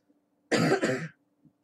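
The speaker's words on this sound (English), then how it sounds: "I'm working through a cough and a cold right now." A single close, harsh cough from a person with a cold, in two quick bursts, loud against near silence.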